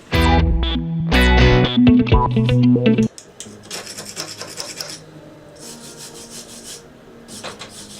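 A harsh, grinding drill rasps loudly against rusty metal Audi 80 car parts for a few seconds, then quieter scraping and brushing strokes follow in uneven bursts.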